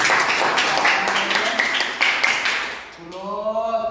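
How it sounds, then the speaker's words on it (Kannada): Students in a classroom clap together, a dense burst of applause that fills the first three seconds before tapering off, followed by a voice speaking. "ಚಪ್ಪಾಳೆ ಹೊಡೆಯಿರಿ."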